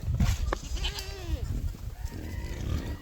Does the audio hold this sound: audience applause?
no